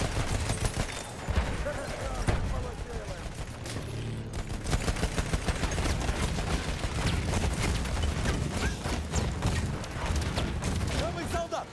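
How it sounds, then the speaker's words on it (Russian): Anti-aircraft guns in Battlefield 1 fire a dense, continuous barrage of rapid bangs that rattle on without pause, with shouting voices mixed into the din. "Зенитные пушки! Вон там!"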